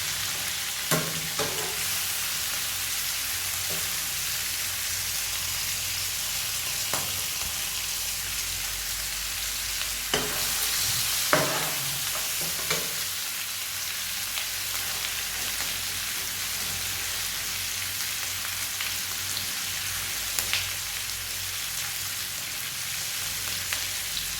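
Fish eggs with chilli fry in a pan with a steady, dense sizzle, punctuated by occasional scraping stirs and light clinks over a long stretch without talk.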